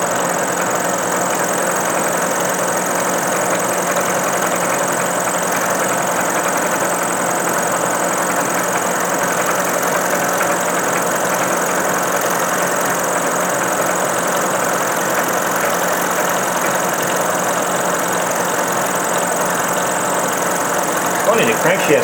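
Milling machine cutting a keyway in a Maytag engine crankshaft, a loud, continuous grinding whine with steady mechanical rumble running throughout, unbroken and close.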